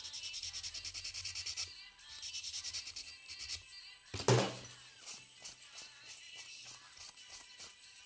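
Gel nail being filed to round its front edge: steady rhythmic rasping strokes, close and fairly soft, with a brief knock midway before the filing resumes in shorter strokes.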